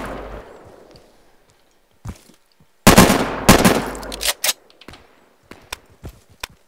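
Sniper rifle gunfire in the Insurgency video game, a few sharp shots and a louder cluster of cracks with echoing tails, then scattered fainter distant shots across the quiet.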